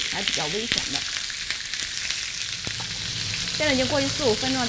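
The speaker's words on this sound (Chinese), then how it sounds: "把鸡腿煎成2面金黄色" Chicken legs fry in a pan over medium-low heat with a steady close sizzle and crackle throughout, while someone talks over it.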